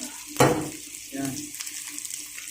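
Chicken for adobong sitaw sizzles in a pan while being stirred, with a sharp clatter at the start and then a steady, fairly soft frying hiss with light scraping.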